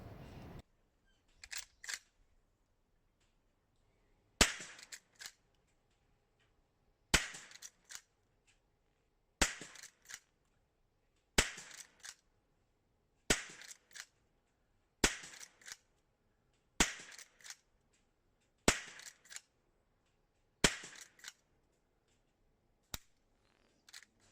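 A Chiappa LA322 .22 LR lever-action rifle fired with CCI standard ammunition, about a dozen sharp cracks spaced roughly two seconds apart, each followed by a brief mechanical clatter of cycling the action, with no talk.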